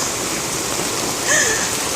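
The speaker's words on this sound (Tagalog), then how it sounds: "Grabe, biglang bumuhos ang ulan." Heavy rain pours steadily around someone walking outdoors, a dense continuous wash of water with a brief louder splash or gurgle near the end.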